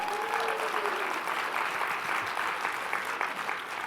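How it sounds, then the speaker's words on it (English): A conference audience at an authors' event in Las Vegas gives the AV team a round of applause. The clapping is dense and sustained, with a brief tonal whine at the start before the clapping fills the room evenly. "Can we get a round of applause for the AV team?"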